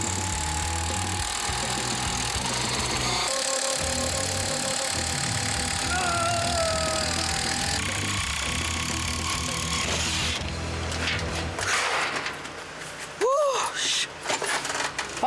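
An electric drill assembling a modular hanok house produces a steady, loud mechanical whirring and rattling that runs throughout, with intermittent rising whines and knocks, under a narrating voice.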